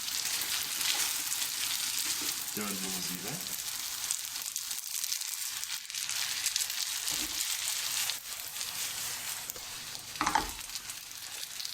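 Spaghetti in Alfredo cream sauce bubbles and sizzles in a pan as the cream reduces, a continuous bright hiss with occasional stirring scrapes, while a person speaks briefly.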